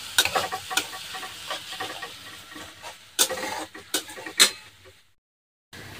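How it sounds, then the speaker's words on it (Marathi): Garlic and cumin frying in oil give soft, intermittent sizzling with stirring scrapes and clicks, fairly quiet, ending in brief silence near the end. "आता 2 मिनिटं छान असं लालसर रंग येईपर्यंत लसूण आणि जिरं छान तळून घ्यायचे"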